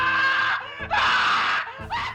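A man screams in agony during a gory horror film scene of flesh being torn, loud and close, in two long anguished bursts separated by a short gasp.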